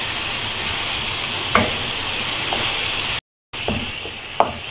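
Chopped tomatoes frying in oil for fry qeema, a loud steady sizzle with occasional spoon scrapes and stirs, briefly cut out before the sizzling resumes.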